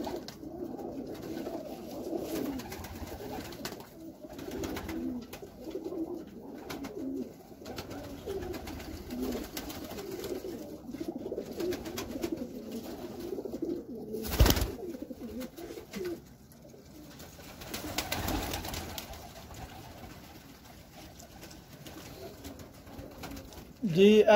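Sialkoti high-flying pigeons coo softly and repeatedly in a low murmur throughout, with faint background noise and occasional brief knocks or rustles.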